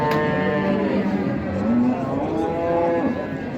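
A cow at a busy cattle market lets out a long, loud, drawn-out moo that holds steady for several seconds, close by, over a murmur of background noise.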